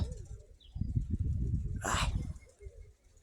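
Low, soft cooing of pigeons murmurs close by in a rolling rhythm, briefly interrupted by a rustling flutter of wings.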